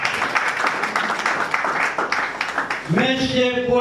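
Applause from an audience at a political rally, a dense steady patter of clapping filling nearly the whole stretch before a voice begins speaking over the tail end.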